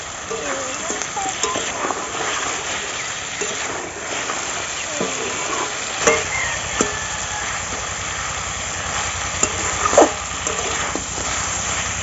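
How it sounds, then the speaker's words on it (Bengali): Continuous loud sizzling and bubbling as fried river catfish and spice paste fry together in a pan, a dense crackling hiss with occasional clinks of a utensil. "একসঙ্গে মশলা আর মাছগুলো একটু কষিয়ে নেবো"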